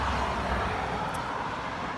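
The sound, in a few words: road traffic noise beside Loch Ness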